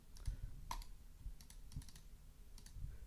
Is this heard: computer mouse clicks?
yes